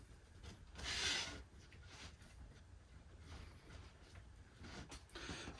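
Brush working finish into wood grain and onto MDF while making coffee table legs, giving soft scratchy rubbing strokes, one louder burst near the start and quieter repeated swipes after, close up with no talk.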